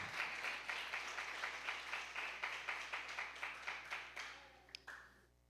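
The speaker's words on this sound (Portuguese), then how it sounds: "Vamos aplaudir essa revelação." Applause from a church congregation at a Sunday worship service, rendered as steady, fairly distant clapping that pulses in regular swells before thinning out near the end.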